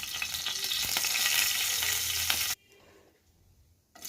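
Cumin seeds crackling and sizzling in hot oil in a pan, a loud, steady hiss with a few scrapes, then cutting off abruptly to near quiet before a faint return at the end.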